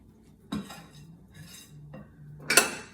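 A spoon stirs banana bread batter in a bowl, giving a few separate scrapes and knocks with a sharper clink near the end, close and fairly quiet.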